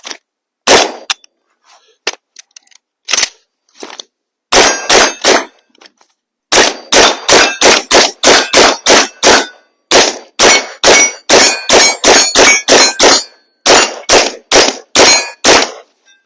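Rapid gunshots strike metal targets about 35 metres away on a shooting range, each a sharp bang with a bright ringing clang, first sparse, then in quick, steady strings of shots, loud and close with no talking.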